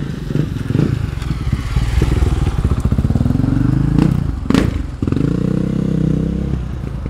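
A 500 motorcycle engine runs close up with a pulsing, rattling idle, rising in a couple of revs with clattering mechanical noise.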